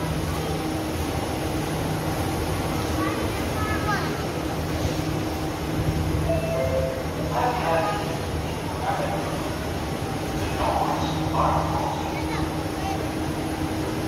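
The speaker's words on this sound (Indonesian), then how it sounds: "Jalan deh MRT-nya" A Jakarta MRT metro train running, heard as a continuous broad rumble and rolling hum with faint tonal whines, steady throughout, while muffled voices murmur faintly beneath it.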